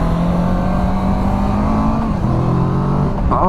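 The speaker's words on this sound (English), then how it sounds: "love that parallel twin Kawasaki intake sound" A Kawasaki Versys 650 parallel twin engine gives a loud, steady intake drone with a tonal hum that drops in pitch and then holds, close and continuous.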